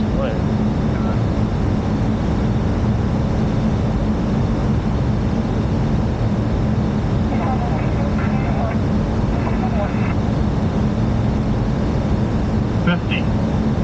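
Airliner landing on a runway during a flight to Paris, heard from the cockpit as a steady loud engine and airflow roar with faint chimes and callouts over it.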